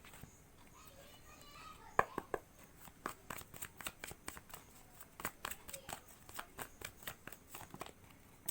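Tarot cards being shuffled in a run of crisp riffling flicks and soft slaps that quicken into a steady patter, fairly close and with no talking over them.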